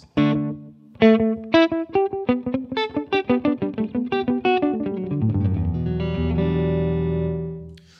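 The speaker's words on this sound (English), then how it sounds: "it's almost like a kind of old school, very, very old school reverb, because they smear into one another in an interesting way" An electric guitar played through a JHS Milkman vintage slapback echo delay pedal with the EQ rolled all the way back, a run of quick picked notes smearing into dark, blurred repeats, then a sustained chord ringing out, loud and alone.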